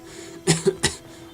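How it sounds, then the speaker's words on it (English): A character coughs in the video game Skyrim: two or three short, harsh bursts close together, fairly loud and close, with no talk over them. "Well, thanks for the contagious cough"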